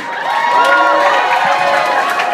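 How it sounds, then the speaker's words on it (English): A large crowd at a Hard Rock Cafe event in Surfers Paradise cheers and whoops continuously, loud and sustained, with scattered shouts rising over the roar. "Let's hear it for Paul McNally, the CEO, the Big Cheese of the Hard Rock here."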